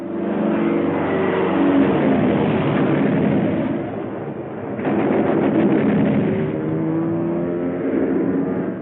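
World War II military aircraft strafing during the battle for New Britain: a loud, continuous engine roar with heavy rumbling bursts and a brief dip midway, heard alone without talk.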